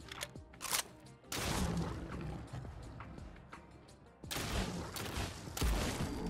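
Shotgun blasts from a modded lore-friendly shotgun in Fallout 4 against a Deathclaw, several loud, sharp reports spaced irregularly with rumbling tails and a pause between bursts, no voices.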